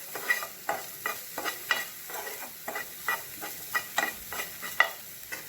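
Masala with turmeric, salt and green chili stirred and fried in a pan for potato filling for masala dosa, a spoon scraping in a steady rhythm of clinks over a soft, constant sizzle, close and alone.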